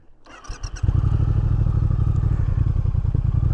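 A 2019 Triumph Speed Twin motorcycle engine starts with a brief clatter, then settles into a loud, steady, close-up idle with a deep, even pulsing throb.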